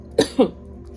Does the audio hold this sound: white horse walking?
no